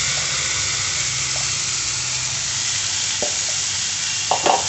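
Green chilies, onions and tomatoes cook in a pan, giving a steady, even sizzle throughout with a few faint clinks of a utensil near the end.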